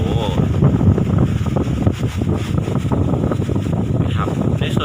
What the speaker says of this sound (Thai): ลมแรงมากครับเพื่อน ๆ